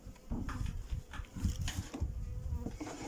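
Bees buzz around an open beehive with full frames, a dense, continuous hum with swells as individual insects pass close by.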